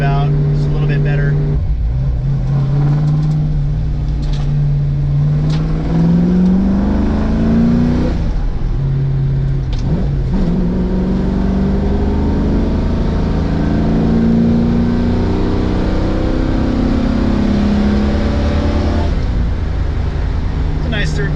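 Steady engine drone of a 1960s Ford Mustang driving around a roundabout, its pitch rising and falling as it shifts and pulls, heard from inside the car with a constant road rumble throughout.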